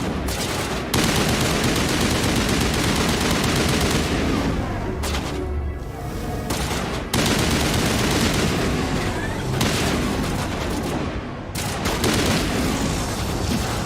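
Rapid gunfire from the Mass Effect video game comes in loud sustained bursts separated by brief pauses, with some voice faintly mixed in.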